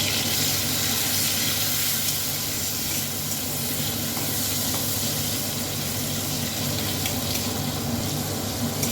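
Turmeric sautéing in oil in a pan for a light Bengali fish curry, a steady close sizzle and hiss that runs unbroken throughout with no talking.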